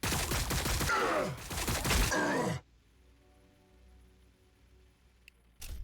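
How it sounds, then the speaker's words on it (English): Bursts of video game gunfire from Warhammer 40,000: Battlesector, Tyranids fighting Blood Angels, in a dense loud volley for about two and a half seconds, then abrupt near-silence with a faint low hum and a brief return of noise at the end. "Just do a little bit of shooting, it's not going to do much."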